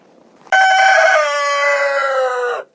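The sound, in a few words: chickens in a coop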